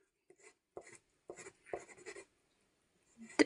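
Pen scratching across paper in a few short, separate bursts with pauses between strokes, close and fairly quiet, ending in a sharper rip-like stroke where the pen tears through the sheet.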